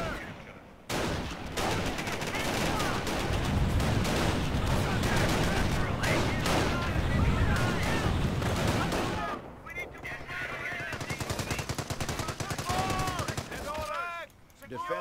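Rapid, sustained machine gun fire in the WWII strategy game Company of Heroes, with dense overlapping bursts running almost the whole time, a brief lull near the start, and battlefield chatter and other fire mixed in.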